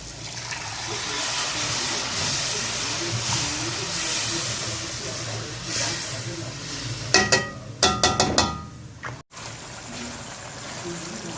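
Water is poured into a hot pan of cooking mash and chana lentils, giving a steady steamy hiss that runs throughout, with a few sharp clattering bursts near the end.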